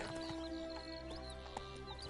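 Horse hooves clop in a quick, steady trot within The Witcher 3 video game, set against a dense, constant layer of game ambience.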